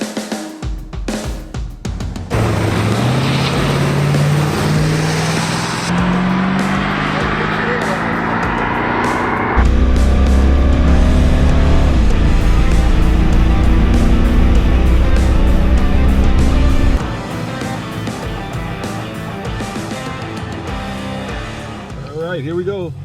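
A 2020 Ford Mustang Shelby GT500, a roughly 4,200-pound car, is driven hard around a track, its engine loud and close as it rises and falls through the gears, with someone talking over it.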